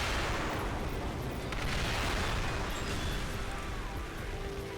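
Battle rifle fire in the mech combat game Armored Core: Verdict Day, heavy booming shots blending into a loud, continuous rumble of explosions and gunfire with no clear gaps.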